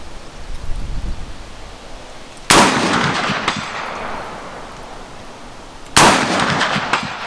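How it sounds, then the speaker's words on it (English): Two loud, booming gunshots from an Alexander Arms .50 Beowulf AR-15 rifle ring out about three and a half seconds apart, each followed by a long rolling echo outdoors. "this is definitely the most potent cartridge I've ever fired out of an AR-15 platform"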